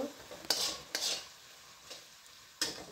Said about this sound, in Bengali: এবার ভালো করে এটাকে আমি ভেজে নেব